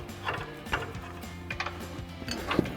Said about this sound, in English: we'll use our 22mm socket and extension along with a swivel on our impact on this side